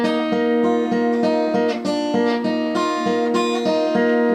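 Acoustic guitar picking a song's part, a steady repeating fingerpicked pattern of ringing notes at a moderate tempo, close and alone without talking.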